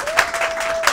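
Brief burst of studio audience clapping on a Turkish quiz-style game show, a short clatter of hands with a sustained tone running underneath and a couple of sharper peaks.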